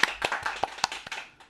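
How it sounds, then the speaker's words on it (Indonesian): Sparse audience clapping at an international seminar, a handful of separate sharp claps spread over a second and a half, fairly close and fading out quickly with no talk over them. "Tepuk tangan."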